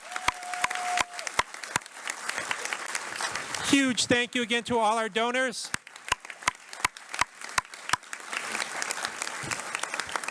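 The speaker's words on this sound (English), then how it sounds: "one huge round of applause for all the recipients" Scattered claps from an audience honoring scholarship recipients at an evening high school scholarship ceremony, sparse and steady, with a voice speaking over them midway.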